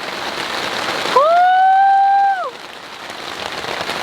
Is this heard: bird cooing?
no